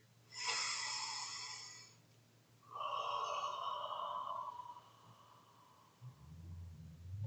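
Two long, breathy exhalations like fogging a mirror, the first airy and bright, the second lower and hollow like a sigh, with a low hum underneath.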